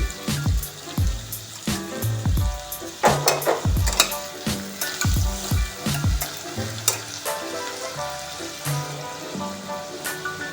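Tomato frying with garlic in oil crackles and sizzles close by, with a run of sharp utensil knocks and scraping stirs early on that thin out to a steadier fry.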